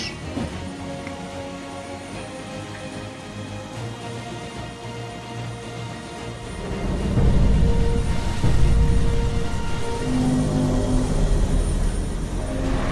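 The villains' helicopter in the video game LEGO Marvel Super Heroes drones with a steady engine hum that swells louder about halfway through, mixed with other game sounds and no talk.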